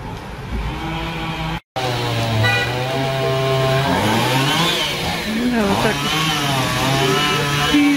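A chainsaw cuts outdoors during spring cleanup work carried out by soldiers, its engine droning and rising in pitch as it bites into wood, loud and steady with a brief dropout near the start.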